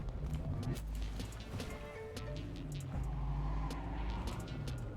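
A car drives in the video game Cyberpunk 2077, its engine humming steadily with shifting revs and road noise, up close and continuous.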